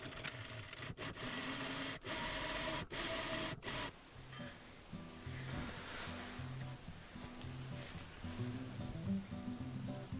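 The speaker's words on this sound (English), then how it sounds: "fold the strip lengthwise once again and sew it up" Sewing machine stitching a folded fabric strip for a milkmaid dress, a fast steady whirring run in short bursts at first, then quieter rhythmic stitching continuing at low level.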